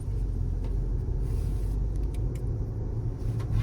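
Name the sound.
2023 Toyota RAV4 LE AWD accelerating from a stop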